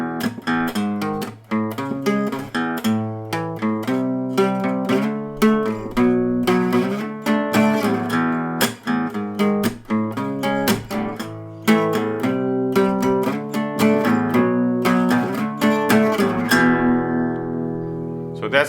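Electric guitar strumming the chord progression from a song in standard tuning, mixing power chords with ringing open strings; steady, dense rhythmic strums for nearly twenty seconds, close and loud, ending on a sustained chord.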